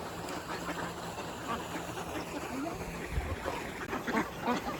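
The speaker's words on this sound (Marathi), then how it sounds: "केवढे बदक आहेत." Ducks quack faintly amid a noisy outdoor wash of water and background rumble in snow, calls scattered and distant.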